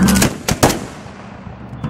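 Several sharp musket shots in quick succession, like a ragged volley of old firearms, fired into the air, with a fading echo trailing after.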